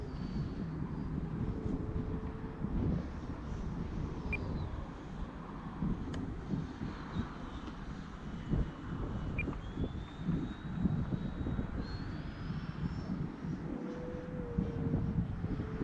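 An E-flite Viper 70mm EDF RC jet flies after takeoff, giving a steady distant whine that rises and falls in pitch as it passes, heard against constant wind noise with no talk.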